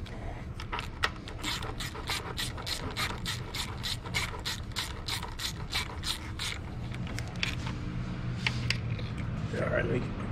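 A ratchet tightens the valve cover bolts on a 2004 Lexus ES330, its quick pawl clicks coming in steady rapid bursts, close up, with someone talking faintly underneath.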